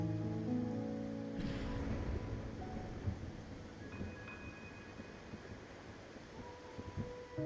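Steady rain falls at night in the video game Wuthering Waves, a dense continuous hiss of drops spread evenly through the scene, with faint tonal music underneath and no voices.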